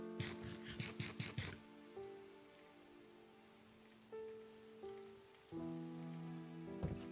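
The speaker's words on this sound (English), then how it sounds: "It's kind of cool that it's not lightning, it's just raining." Steady, quiet rain patters in a Minecraft-style video game, a soft continuous hiss under gentle, sustained melodic tones throughout.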